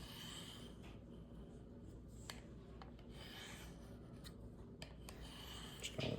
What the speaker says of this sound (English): You just bring it back and forth, making sure not to flick off on the edge and mess that tip up